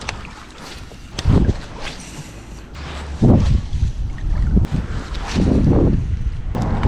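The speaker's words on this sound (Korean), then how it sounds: "어우 바람이 많이 부니까 반영이 안 되네" Strong wind buffets the microphone during bass fishing on a riverside in Chungnam, South Korea in early spring, with a steady roar and louder gusts rising and falling several times.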